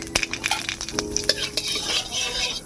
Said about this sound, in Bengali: ফোড়নটাকে একটু ভেজে নিলাম।